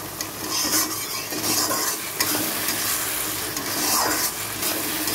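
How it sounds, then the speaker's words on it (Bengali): Meat is sautéed with spices in a pan: a loud, dense sizzle with steady stirring and scraping close up, continuing throughout without talk. "দিয়ে দিয়েছি মাংসটা, ভালো করে এবারে কষিয়ে নেব মাংসটা মশলার সাথে"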